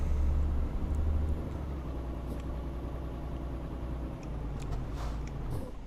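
A truck drives along in Euro Truck Simulator 2, its engine a steady low rumble that holds close and even throughout, slightly louder at the start.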